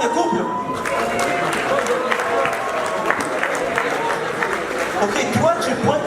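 An audience at a televised talent show claps and cheers in a hall, moderate applause with crowd chatter and voices mixed through.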